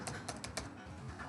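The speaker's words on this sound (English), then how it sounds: "I am typing here" Quick, quiet keystrokes on a computer keyboard, a short burst of light clicks in an otherwise still room.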